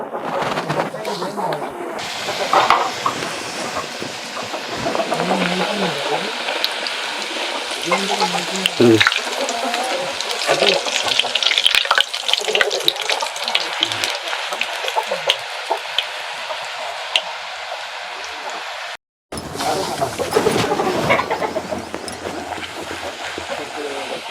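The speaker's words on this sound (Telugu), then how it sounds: "రుద్ది పెట్టుకున్న పూరిని ఇంకా బాగా నూనెలో వేసుకోవటమే మనం." Rolled puri dough deep-frying in hot oil, a loud bubbling, crackling sizzle that swells as the puri goes in and runs continuously, with a person talking over it and a brief break near the end.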